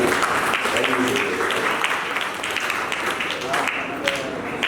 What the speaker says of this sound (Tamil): அவர் அனைவருக்கும் உங்களுடைய பலத்த கரகோஷத்தை